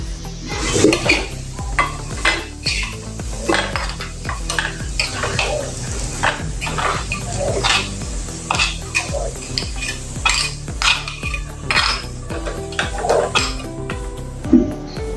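Fried besan pieces are lifted from a pan onto a plate with a utensil, giving repeated metal clinks and scrapes at close range over a light sizzle, with no voices.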